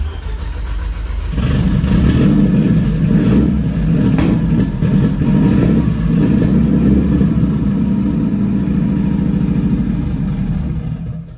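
An engine in a rebuilt, very powerful jukebox-themed car cranks and catches, then runs rough and loud with steady revving, struggling to settle into an idle, close by with no talk.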